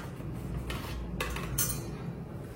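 A plate of turmeric leaf cakes being moved into a steamer filled with water, a few light clinks and scrapes of metal and dishware over a steady background hiss.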